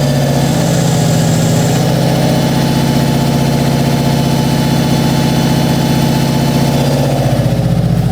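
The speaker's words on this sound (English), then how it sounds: "Rev it up just a little bit. The engine smooths out." A Subaru WRX with a JDM EJ205 engine settles back to idle after a light rev, a steady loud rumble with a continuous low throb and faint higher hum, easing slightly near the end.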